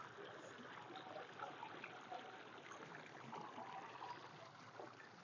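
Irrigation water flows steadily through a village field channel, a continuous soft broadband gurgle and rush at moderate distance with no talk over it.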